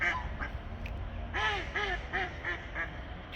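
Ducks quack in a German town street, a run of four or five nasal, descending calls spaced about half a second apart, fairly close and clear over a low outdoor background hum.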